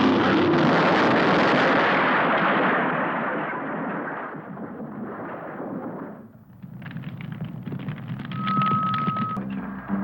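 A car carrying nitroglycerin explodes in an old film, a huge roaring blast that rumbles on for several seconds and slowly fades, followed by crackling debris and ringing aftermath, with no talk.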